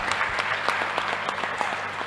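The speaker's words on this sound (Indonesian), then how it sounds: "Aplaus untuk kita semuanya" A crowd at a community health and exercise event applauds together, with steady, fairly close clapping throughout and a few louder individual claps standing out.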